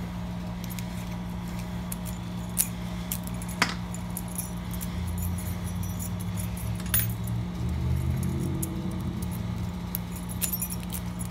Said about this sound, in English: I do have four keys for these locks made up here.